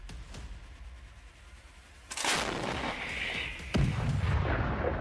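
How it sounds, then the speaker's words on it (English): Ukrainian artillery strike on a Russian armored vehicle in a column, a sharp distant crack followed by a heavy rumbling blast and a second loud impact, booming over a low background rumble with no voices. "Precise hit from Ukrainian artillery takes out one more armored vehicle."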